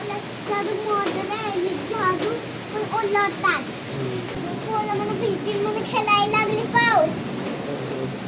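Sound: children playing in the rain

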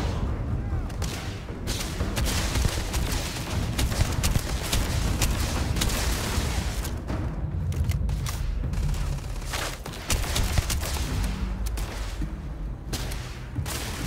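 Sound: gunfire from a weapon in Starfield video game

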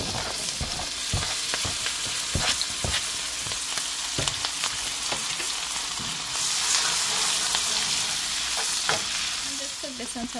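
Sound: garlic and pepper sizzling in butter in a pan

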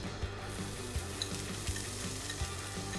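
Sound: onion sauteing in olive oil in a pan

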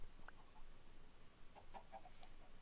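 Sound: chicken clucking in video game

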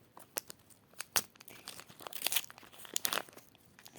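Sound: opening a toy box package, crinkling wrapper

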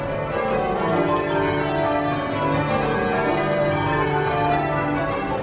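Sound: change ringing of tower bells

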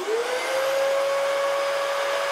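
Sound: vacuum cleaner starting up, running on battery power

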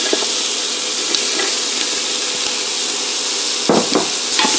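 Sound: diced carrot, celery and onion sizzling in a soup pot

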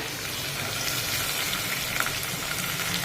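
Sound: vegetables frying in a pan

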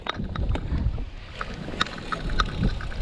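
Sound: strong wind during a storm

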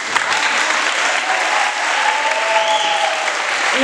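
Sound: audience applause at graduation ceremony

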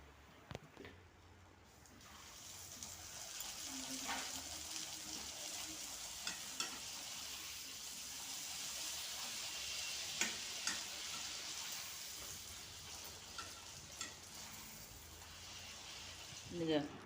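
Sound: puris deep-frying in hot oil

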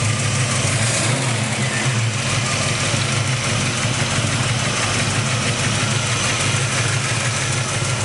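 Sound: 1967 Chevy Nova 327 V8 engine idling

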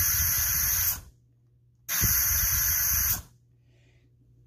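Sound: SMC single stage vacuum nozzle cups adsorbing a cardboard box

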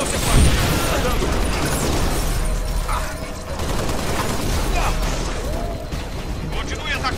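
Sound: gunfire from the video game Halo Reach

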